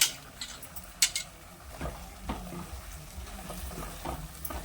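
Ravas fish pieces and head added to roasted masala in oil and stirred in a pan, a soft sizzle with spoon scrapes and clinks against the pan, close and fairly quiet; no speech.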